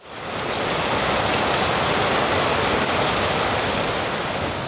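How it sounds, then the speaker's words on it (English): Heavy tropical downpour during the rainy season in a remote corner of the Philippines, a dense, steady roar of rain that swells in within the first half second and holds loud and unbroken throughout, with no voices. "But usually when it's heavy like this, it might not last long"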